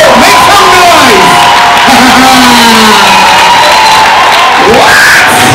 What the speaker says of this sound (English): Please stand up and give her a big round of applause. Woo! Make some noise!